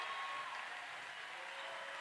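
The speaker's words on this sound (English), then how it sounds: "That's the loudest cheer we've heard all night from the Wesleyan fans." Fans of the Wesleyan team at a college basketball game cheer after a made free throw, a steady, dense roar of crowd noise with applause holding at an even level for the full two seconds, no distinct voices standing out.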